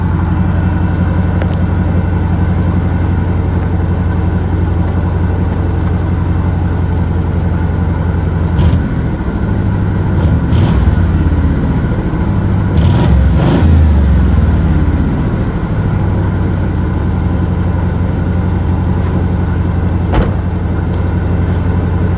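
A 1977 Pontiac LeMans engine runs at a loud, steady high idle close by, with a few short revs and rumbling blips rising out of the drone midway before it settles again.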